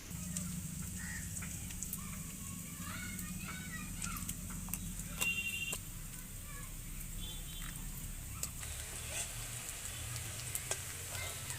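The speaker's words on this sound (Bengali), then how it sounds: "কাঁচা পেঁয়াজ আর কাঁচা লঙ্কা দিয়ে বেগুনটা ছেড়ে নেব।" Eggplant with raw onion and green chilli fries in oil with a soft, continuous sizzle and occasional stirring scrapes, quiet and low, while a chicken clucks faintly in the background.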